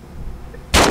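A single loud gunshot from Arma 3 military combat bursts in near the end after a quiet, low-level stretch, sharp and close.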